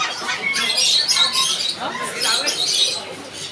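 Caged birds squawk and chirp at a large bird market, a dense steady chorus of shrill calls close by with a busy crowd murmur underneath.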